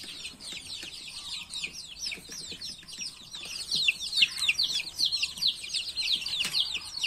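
Chicks and hens cluck and peep continuously in a poultry nursery for young chicks. The high, busy chirping rises in density partway through, with softer clucks and faint shuffling underneath and no voices.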